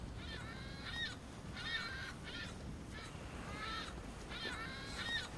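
Caracara birds give repeated harsh, cackling calls in short bursts, several rising and falling rattles spaced a second or so apart, fairly close over a soft background rumble.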